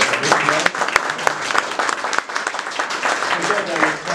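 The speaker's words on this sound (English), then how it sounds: "I'd like to applaud Joe and Sandy, who came all the way from England." Applause from a crowd, a dense wash of many hands clapping steadily throughout, with voices mixed in.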